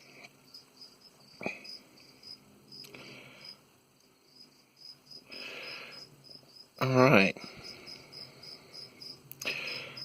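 A feeder cricket chirps in short intermittent bursts inside a small enclosure holding a feisty young Poecilotheria spider, with one louder, busier burst near the middle and a soft spoken word.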